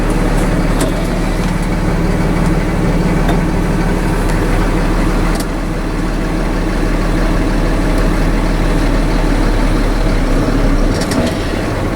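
A truck engine runs steadily and loud nearby while the parking brake holds the vehicle during a brake torque test, a constant low rumble with occasional clicks and no speech.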